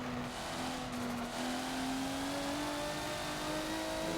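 A car engine holds full throttle in the Forza video game on the Maple Valley track, a loud, continuous drone whose pitch climbs slowly and steadily without a break.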